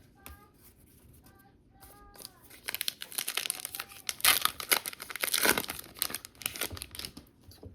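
Topps Heritage baseball card hobby packs being torn open and handled, with crinkly foil wrappers giving bursts of sharp tearing and crumpling that grow louder and busier in the second half, close to the mic.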